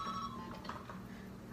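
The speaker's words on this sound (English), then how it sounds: "my fax machine just keeps ringing" A fax machine rings with a faint electronic tone that fades within a fraction of a second, leaving soft background hum.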